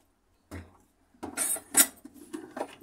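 A metal cooking pot is handled in a home kitchen as rice is put on to cook, giving a few light clanks and scraping knocks in short, irregular bursts that are fairly quiet and close, with no talking.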